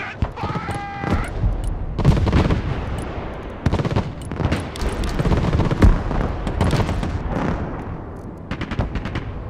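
Soldiers in the Broken Arrow video game open fire together, a sustained barrage of rifle and machine gun bursts punctuated by heavy booms, loud and near, with radio chatter and a whistling tone at the start.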